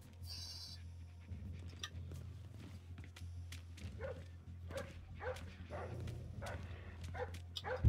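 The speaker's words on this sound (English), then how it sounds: "Right, there are dogs." Dogs bark in the Splinter Cell: Blacklist video game, a series of sharp yaps and barks from about four seconds on, rising over a steady low game hum.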